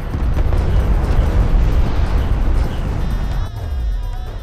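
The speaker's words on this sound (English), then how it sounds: "Enemy railgun firing on friendly." Heavy railgun fire during a desert battle in Homeworld: Deserts of Kharak, a loud, dense rumbling blast that stays strong throughout with burst-like surges and no talking.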